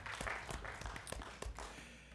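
Applause for the cheer team coaches of a five-time state champion squad at a board of education meeting, a distant, fairly faint patter of many hands clapping steadily in a room.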